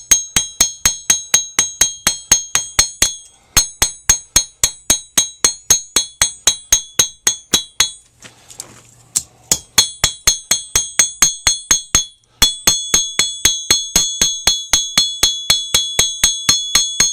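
Cross peen hammer texturing a forged steel rose, struck in a steady rapid series of sharp ringing metallic blows, loud and close, with two short pauses between runs.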